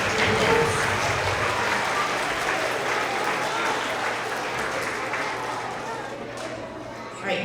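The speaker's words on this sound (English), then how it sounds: "Give a round of applause for all of our TK Kinder perfect attendance." An audience of parents and students claps at a school award assembly for kindergarten perfect-attendance honorees, a steady roomful of applause with faint chatter, tapering off near the end.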